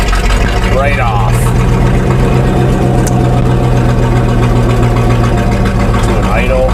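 A small engine, likely carbureted, runs steadily and settles into a loud, even idle with a continuous low rumble close to the microphone and no talk over it.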